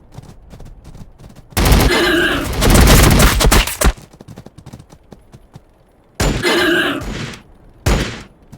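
Heavy automatic gunfire in Warhammer 40k Battlesector comes in loud, dense volleys, first a long two-second stretch, then shorter bursts after a quiet gap, with battlefield effects between them.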